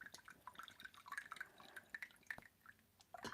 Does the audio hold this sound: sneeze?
no